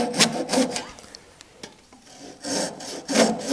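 Rhythmic rasping strokes of a Japanese kugihiki handsaw cutting through a 15 mm wooden dowel, several back-and-forth passes close up, with a brief pause midway before sawing resumes.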